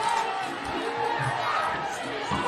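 Spectators at a heavyweight Toughman amateur boxing semi-final roar and cheer in a steady, close crowd din with mixed shouting and no pauses.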